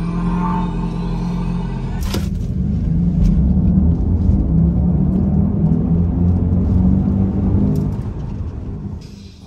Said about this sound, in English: we're going to do race start momentarily, so I'm just going to let you enjoy that and stop talking.